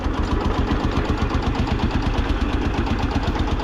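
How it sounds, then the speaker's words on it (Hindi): Steady, rapid chugging of a restored 1959 Lanz Bulldog D2416 tractor engine running close by, loud and rhythmic with a low knocking pulse. "आवाज़ का भी मज़ा अलग है, इसकी दो टाइप की आवाज़ है ट्रैक्टर की।"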